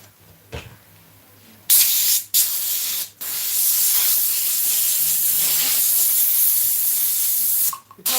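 An airbrush blasts airbrush cleaner through itself in loud, close hissing sprays, with a long continuous burst broken by short stops and restarts.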